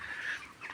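A broiler chicken in a poultry shed gives a short, close, drawn-out cluck lasting under a second, then a softer second note.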